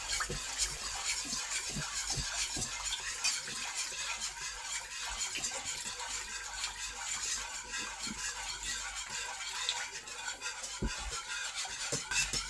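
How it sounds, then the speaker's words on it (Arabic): A spoon stirs béchamel sauce of milk and flour in a pot, a soft continuous scraping and sloshing with faint clicks against the pot, quiet and steady throughout, with no voices. "رح اضل احرك فيها هلا لبين ما تروح التكتلات"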